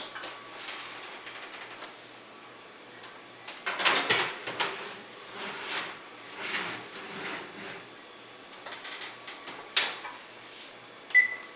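A pot of creamy potato sausage stew set into a kitchen oven and the oven door shut, soft clanks and knocks with a couple of sharper thuds near the end, fairly quiet and close, with no talk.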